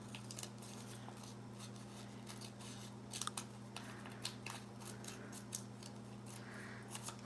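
Scissors snipping paper in short, faint, irregular cuts while gluing paper tabs for hidden paperclips, over a steady low electrical hum, with no talking.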